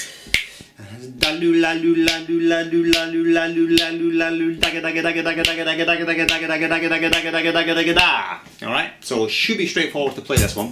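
Even 32nd-note subdivision: a rapid, steady stream of evenly spaced short notes over a sustained tone, with sharp snap-like clicks marking the beat and someone talking briefly at the start and end.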